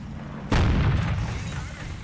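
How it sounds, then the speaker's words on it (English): A single heavy tank cannon shot in a World of Tanks-style tournament battle, a sudden loud boom followed by a rumbling decay, with no voices. "watch here as I miss or bounce pretty much all of my shots"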